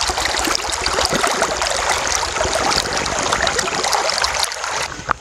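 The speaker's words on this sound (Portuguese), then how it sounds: "Eu tô enchendo as garrafas d'água aqui" Water bottles are filled with a steady, loud rush of pouring water that flows without a break for several seconds and drowns out any background sound.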